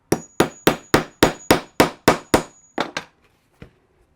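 A hammer strikes a metal rivet setter to set a handbag rivet: about a dozen sharp, evenly spaced taps close up, slowing and fading toward the end.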